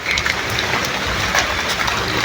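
Steady rain pours down outdoors near a rural home, a dense, loud, even hiss of drops striking surfaces throughout.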